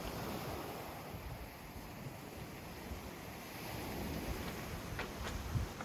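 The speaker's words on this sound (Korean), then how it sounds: "해식 동굴 앞에는 파도가 이렇게 가까이 치고 있어요." Sea waves break in front of a sea cave carved into a steep coastal cliff, a steady, soft roar of surf mixed with wind rumbling against the microphone.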